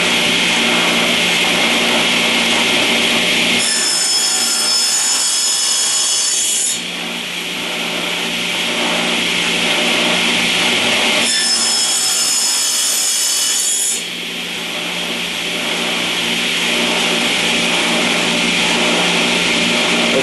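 A hand saw cuts through wood for homemade loading blocks, loud rasping strokes running in two long bursts with short quieter pauses between, the blade dull and tearing splintered fibres.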